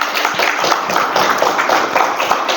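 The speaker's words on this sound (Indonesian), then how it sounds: "Tepuk tangan untuk" A classroom of students applauds the presenting groups, a dense, steady patter of many hands clapping fairly close throughout, with no voices standing out.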